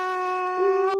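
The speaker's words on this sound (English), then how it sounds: "The conch." A conch shell blown as a sound effect, a single sustained hornlike tone with strong harmonics that swells slightly in loudness midway and then cuts off sharply, heard alone with no voices.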